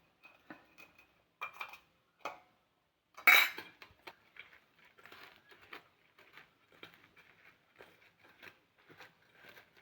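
Crushed dal, shallots, curry leaves, green chilli and salt being mixed together for paruppu vada, with scattered close clinks and scrapes, one louder knock near the start, and no talking.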